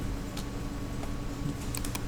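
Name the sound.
computer keyboard keys being pressed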